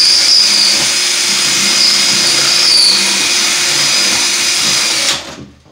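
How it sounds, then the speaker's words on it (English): A high-pitched Rotozip spiral saw whines steadily for about five seconds as its bit cuts through drywall, then spins down abruptly near the end. "this is a Rotozip blade for cutting drywall."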